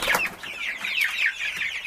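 Cornish chickens cluck continuously close by, a busy overlapping flock chatter of short clucks and squawks with no talking.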